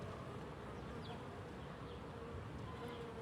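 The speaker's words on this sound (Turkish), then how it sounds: "Balkona koydum arıları." Honey bees buzz at a hive set on a city balcony, a continuous, even, faint hum that never lets up, with no talk.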